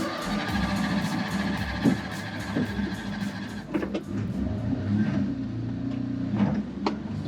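A Suzuki Carry kei truck climbing a mountain road above 11,000 feet in the Rockies, its small engine labouring in thin air with a close, continuous drone that shifts in pitch, plus scattered clicks and rattles.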